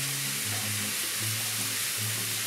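Pasta sauce thinned with a ladle of water being stirred in a pan, a soft continuous simmering sizzle with faint scraping under a low steady hum.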